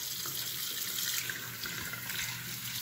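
Water runs steadily from a tap as hands are rinsed under it, a continuous close splashing hiss with no talking.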